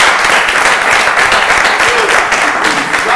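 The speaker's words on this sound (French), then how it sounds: "J'aimerais qu'on l'applaudisse très fort" Loud, sustained applause from a studio audience on a youth television show, a dense wash of many hands clapping that stays strong and even from start to finish.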